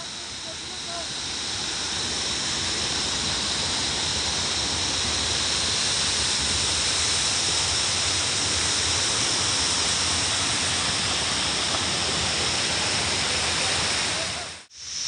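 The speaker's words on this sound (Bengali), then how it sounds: "আমরা এইখানে একটা এই ঝর্ণার কাছে এসেছি" Roaring waterfall near Pelling in the Himalayan foothills, heard up close as a loud, steady broadband rush of falling water that holds constant before cutting off abruptly at the end.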